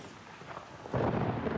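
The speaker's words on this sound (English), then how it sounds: "Look at this rushing water." Fast-rushing water after heavy rain, a broad steady roar that swells sharply partway through and then holds loud and close, with no talk over it.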